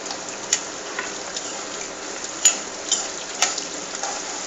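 Peanuts, green chillies and curry leaves fry in an oil tempering for mango rice, giving a steady close sizzle with occasional sharp clicks of a spoon stirring the pan.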